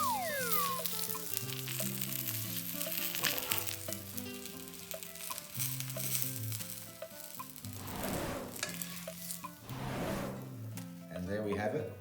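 Two pieces of bacon sizzle steadily in a non-stick fry pan, a soft continuous crackle with occasional louder spits, while a person talks over it.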